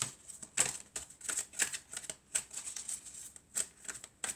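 Tarot cards being drawn and handled, giving a series of soft papery slaps and flicks in an irregular rhythm, close and fairly quiet, with no talking.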